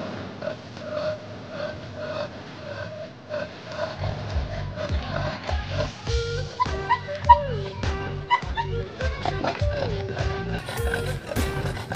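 A small dog barks, yips and whimpers close by in a run of excited, overlapping cries that grow busier over time, with some talk in the background.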